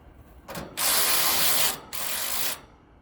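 Two long bursts of a ratchet driving in the last screw on an air conditioning unit during spring maintenance, a loud, rapid, close buzzing clatter with a brief pause between them.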